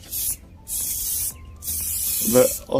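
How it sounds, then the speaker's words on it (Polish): Three sharp hissing bursts of an aerosol spray can spraying primer, each lasting under a second with short pauses, close and loud, with a brief rattle near the end. "to musicie sobie wszystko porządnie wypsikać"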